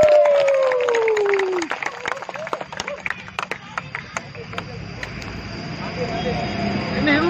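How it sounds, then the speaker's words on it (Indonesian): Applause and scattered clapping from a group at the close of a fire-extinguishing drill at BFI Tower, uneven claps ringing out over background chatter and voices, fading into crowd noise. "tepuk tangan untuk kalian semuanya"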